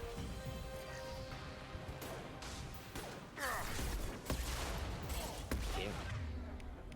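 Gunfire crackles through a video game firefight as a steady stream of rapid shots and metallic clatter, with a few louder bursts, loud and continuous.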